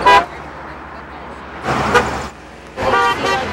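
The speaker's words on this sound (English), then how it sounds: "People honked their horns in support as they drove by" Three car horn honks, a short one followed by two longer blasts, sounding over steady road traffic noise as drivers pass a picket line.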